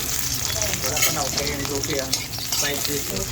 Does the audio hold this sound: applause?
no